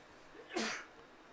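A single sharp sneeze rings out once, close and clear, in the quiet during a high school baseball game between the Labette Cardinals and the Kansas City, KS Blue Devils.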